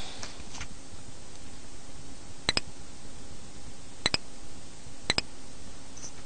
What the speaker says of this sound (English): what that sound is basically is when you press a button on the system